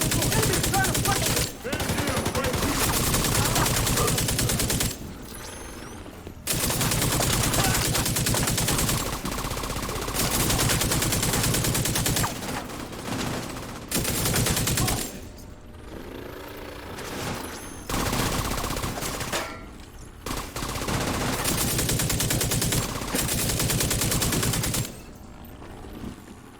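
Sustained automatic gunfire in a firefight in The Division 2, loud, dense bursts of rapid shots broken by short pauses, with shouted voices over the shooting.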